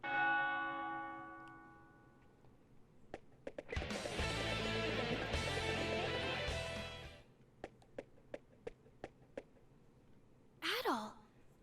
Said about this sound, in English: Another ring of the bell.